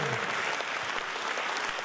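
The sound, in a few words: audience applause at a concert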